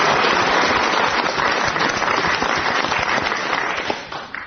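Studio audience of a British radio quiz gives a round of applause for the winner, a loud, dense burst of clapping that holds steady, then thins and tails off near the end.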